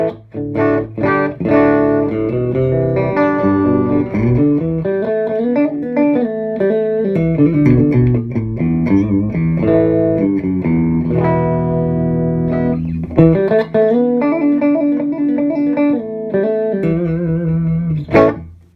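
Epiphone SG Les Paul Custom electric guitar with all pickups selected and volumes full, played through a Marshall JVM210 combo amp: loud, sustained distorted chords and riffs ringing continuously, with no talking.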